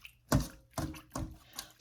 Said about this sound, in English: I just take the hair and I just put it in the water